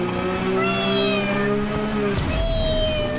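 Cat in the video game Borderlands 3, a long drawn-out wavering meow followed by a short sweep, up close over a steady game background hum.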